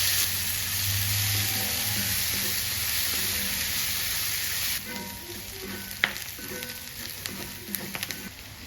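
Chili paste fries in a pan of mushroom masala, a loud, steady sizzle that drops back after a few seconds, then settles into quieter crackling broken by a few clinks of a spoon.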